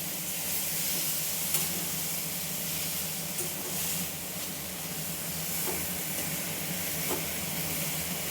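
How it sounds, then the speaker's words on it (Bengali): Taro greens with spices and hilsa fish head sizzle in a hot pan while being stirred, a steady close hiss with faint scraping and no talk. "মশলাটার সঙ্গে কচু শাকটা ভালো করে নেড়ে নেব।"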